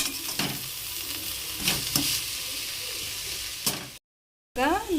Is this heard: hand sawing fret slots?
no